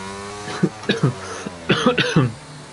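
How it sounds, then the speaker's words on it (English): A commentator during an F1 22 PlayStation race broadcast coughs several times in quick bursts, loud and close to the microphone, with faint game engine noise behind. "Hopefully I won't just be coughing non-stop by the end of this"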